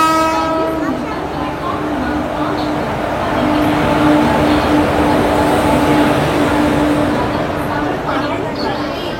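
Passenger train noise fills the clip, a continuous loud rumble of the rail carriage with a sustained horn-like tone running underneath, steady from start to finish.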